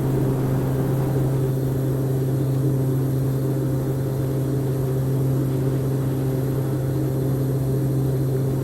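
Small propeller airplane on its takeoff run, a steady droning engine hum heard from inside the cabin, constant and fairly loud throughout with no talking.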